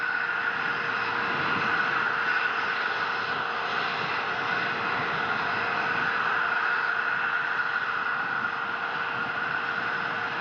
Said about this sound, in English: First stage engines are continuing to fire